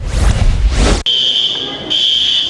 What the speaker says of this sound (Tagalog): the bell was rung in a mall in Ecoland to signal an earthquake